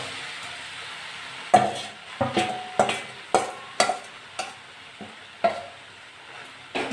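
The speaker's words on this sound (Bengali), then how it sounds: "ভালো করে কষে নেব" Shrimp and jackfruit being stir-fried in a thick spiced gravy, a low sizzle broken by about a dozen sharp spatula scrapes and knocks against the pan in an uneven rhythm, close and alone.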